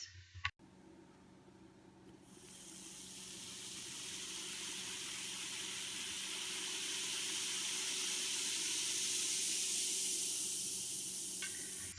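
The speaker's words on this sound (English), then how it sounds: "So you obviously observe the fizzing and the bubbling coming from that" Baking soda in a bowl of vinegar starts fizzing after a faint click, a soft steady hiss of bubbling that swells gradually and holds, quiet and close with no voices.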